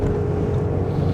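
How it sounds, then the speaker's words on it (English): Steady, loud wind roar and low rumble fill the cabin of a 2025 Audi SQ8 with its V8, cruising near top speed around 240 km/h on the Autobahn, a continuous broadband rush with no talk. "Now the wind noise is super loud."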